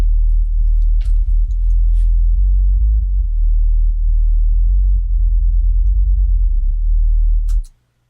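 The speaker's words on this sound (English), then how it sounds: "a compressor acting on the kick and the snare, so that when the kick and snare happen, the subs duck" Dubstep sub bass pumps as sidechain compression ducks it under each kick and snare, a deep sustained low drone that dips rhythmically in a steady beat before stopping abruptly; a few sharp clicky hits appear on top.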